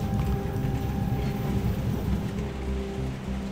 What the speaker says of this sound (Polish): No i znowu leje deszcz.